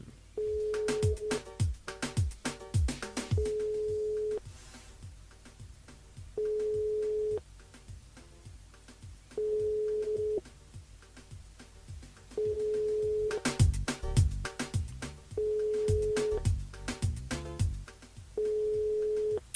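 Telephone tones on a live French radio show while a call goes unanswered, repeating steady beeps in bursts of about a second, with clicks and rustling between them and nobody speaking.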